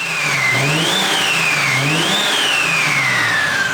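A BMW F30 340i with a B58 engine and a big turbo upgrade revs loudly nearby, rising twice to a high whining peak and then falling back, with turbo whine riding over the exhaust.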